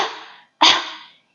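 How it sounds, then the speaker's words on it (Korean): Two short, forceful coughs, close and clear, separated by a brief pause, with no talking. "기침 한번 같이 해볼게요."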